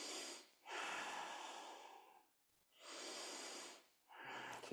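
Heavy, deep breaths during a yoga pose: two long, loud exhalations with a short pause between them and a third breath beginning at the end, close and alone with no talking.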